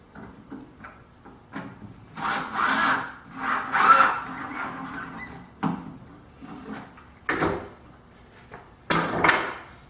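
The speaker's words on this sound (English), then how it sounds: "holding the pivot blocks tightly against the spacer, I'm just going to install a couple of screws." Screws being driven into wooden pivot blocks held against a spacer on a flip-top tool stand base, heard as several separate bursts of close, woody rubbing and grinding with quiet gaps between them.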